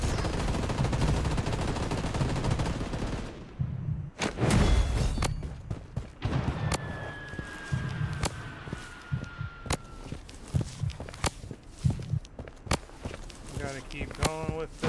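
Sharp gunshots crack from a Bloodstrike shooter match in short bursts and single reports, some close and loud, others scattered further off, with footsteps and someone talking over the action.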